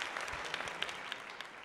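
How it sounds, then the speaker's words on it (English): A round of applause during a livestream, a thin, steady patter of clapping with a few sharper individual claps standing out, moderately faint and uninterrupted by talk. "Just want to give you a round of applause."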